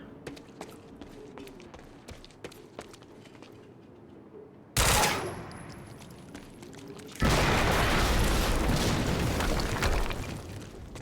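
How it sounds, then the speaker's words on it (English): Gunfire and an explosion in the video game Quantum Break: scattered sharp shots give way to a loud blast, then a sustained roaring burst of noise that fills the rest, close and intense. "we just heard an explosion near the harvesting perimeter"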